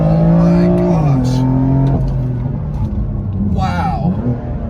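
A BMW M4 running a stage 0 tune accelerates hard, its engine note climbing loudly through a gear change, then fading as a voice speaks excitedly at the end.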